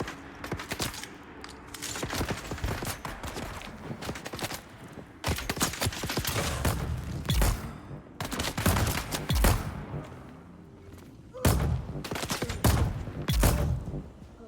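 A video game turret fires in rapid repeated bursts, dense clattering volleys that stop and start several times over the stretch, loud and continuous without speech.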